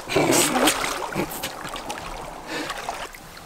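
Water sloshing and swirling in a gold pan during gold panning at Tankavaara, Finland, as the pan is tilted about 30 degrees and rocked back and forth, lifting up from under the water; close, continuous splashy trickling with brief louder swells.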